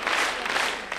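An audience at a street performance applauds after an acrobatic trident stunt, a dense, steady wash of many hands clapping that fills the whole moment.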